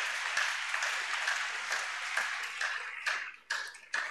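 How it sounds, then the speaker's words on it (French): A church congregation applauding, with a steady patter of many hands clapping, a few sharper claps standing out near the end, no talk over it. "Acclamons pour le Seigneur."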